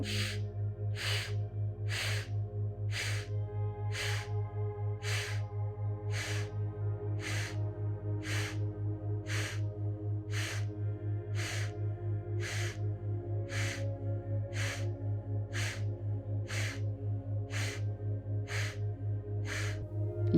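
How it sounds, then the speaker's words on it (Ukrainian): Sharp nasal breaths from a breathing exercise, with active inhales through the left nostril, repeat in a steady rhythm of about one per second, close and clear over a faint low hum. "Тобто ми просто робимо активний вдих, наповнюючи всю ліву сторону."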